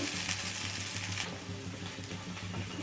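Okra pieces frying in a pan give a steady, close sizzle with soft crackling and faint stirring, heard alone without talk.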